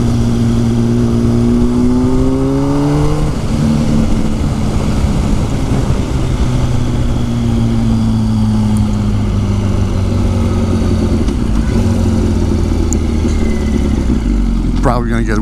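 Motorcycle ridden through a city in the middle of winter, engine note rising through gears then droning steadily under loud wind rush, close and continuous, with a voice talking over it.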